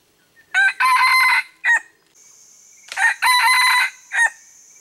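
Two loud, close crows from a wild jungle rooster, each a staggered cock-a-doodle-doo with clucking notes. A steady high tone, likely insects, fills the gap between the crows.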